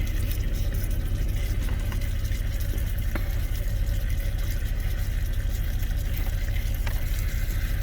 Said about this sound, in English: See how it's bubbling?